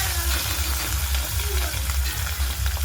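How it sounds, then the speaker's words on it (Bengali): Rohu fish pieces dropped into hot oil in a kadai, giving a steady loud sizzle and crackle with no pauses. A low hum sits underneath and no one speaks. "তো তেল গরম হয়ে গেছে, এবার মাছগুলো দিয়ে দেব"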